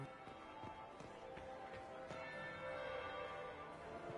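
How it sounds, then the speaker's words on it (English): A church bell rings in Dragon Age: Inquisition, faint, repeated metallic strikes spaced irregularly over a soft ambient background of the game scene. "That would be the second bell."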